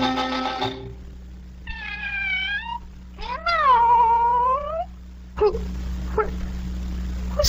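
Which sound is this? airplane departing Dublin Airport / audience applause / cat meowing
cat meowing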